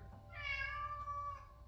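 A single drawn-out cat meow, quiet and close, with a rising then slowly falling pitch over a low background hum.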